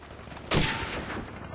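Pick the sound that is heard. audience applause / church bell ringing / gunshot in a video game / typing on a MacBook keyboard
gunshot in a video game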